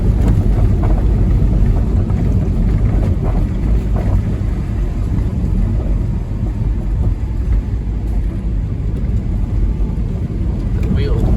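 A 2001 Porsche Boxster 986 that needs a wheel alignment rolls down a road at low gears. Its steady, loud engine and road rumble is mixed with wind buffeting throughout.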